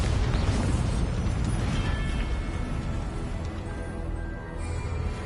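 Bombarda explosion spell in Hogwarts Legacy, a loud booming blast followed by a sustained rumbling, crackling aftermath that slowly thins out over several seconds.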